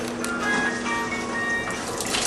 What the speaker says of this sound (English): The waterfall will automatically start.